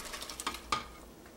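Shrimp go into a pot of simmering sinigang broth with two short, soft splashes over a faint bubbling background.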